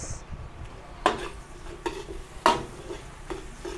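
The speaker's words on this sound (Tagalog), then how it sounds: "maglagay tayo ng sibuyas." Onions dropped into garlic frying in a pan in a Filipino home kitchen, a steady soft sizzle broken by several sharp scraping stirs and clinks of a utensil against the pan, close and fairly quiet, with no talking.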